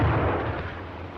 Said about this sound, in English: Out comes the potato masher. Being constructed to deliver a maximum blast effect, its explosion will stun rather than cause injury by fragmentation.